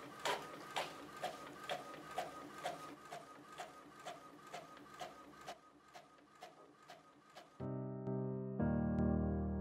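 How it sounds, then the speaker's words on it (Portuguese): An inkjet printer prints sewing pattern pieces for a children's off-the-shoulder dress, giving a steady run of rhythmic mechanical clicks and carriage passes, then ending in a louder, denser whirring feed as the sheet is pushed out. "Então, é só eu imprimir."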